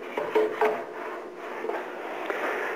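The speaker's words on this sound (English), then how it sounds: "We like to sand face down because we have a better feel of the part" Wood being sanded with a profile sanding wheel, soft raspy back-and-forth strokes, close and moderately quiet, with no voices.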